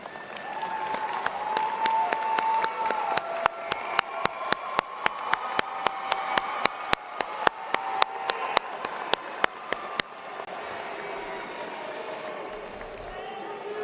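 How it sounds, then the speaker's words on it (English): Graduation ceremony audience at a high school, a steady crowd clapping that runs under a series of sharp, regular percussive hits and music-like tones, then drops to quieter room noise near the end. "Stand up and give them a round of applause."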